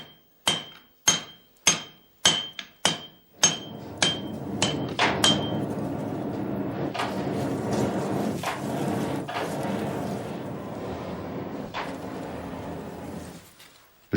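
Hammer blows ring out on a steel bar being forged into a katana blade by a master smith, about ten sharp, evenly spaced strikes, then a steady roaring din with occasional fainter blows, close and loud, no talk.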